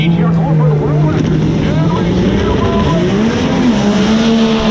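A GTR drag car launches in a world-record attempt at a drag racing event, its engine droning loud and close with a steadily climbing pitch, while an announcer talks over it.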